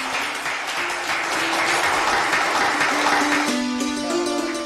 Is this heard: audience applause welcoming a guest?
yes